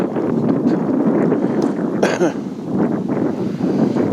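Gusty winter wind by a river buffets the microphone in rough, uneven rumbles, with a brief sharper noise partway through.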